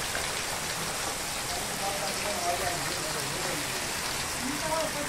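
Heavy rain pours down outdoors, a dense, unbroken hiss of drops striking the ground and surfaces, loud and close throughout.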